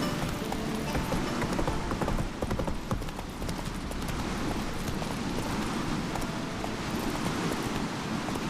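Hooves of the horse Roach gallop steadily in The Witcher 3, a continuous rapid clip-clop with wind and rustling around it, loud and close throughout.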